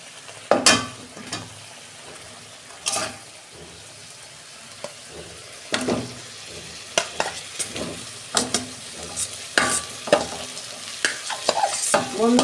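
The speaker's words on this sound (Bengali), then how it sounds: "আমি সবজিগুলো দিয়ে দিচ্ছি" Vegetables for a thin catfish (magur) curry stir-frying in a pan, with scattered spatula scrapes and stirring knocks over a soft, continuous close sizzle.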